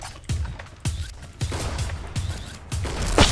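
Gunfire in PUBG, a Kar98K sniper match: five or six sharp, loud shots spaced roughly half a second apart, each with a short ringing tail, one last crack hitting hardest at the end.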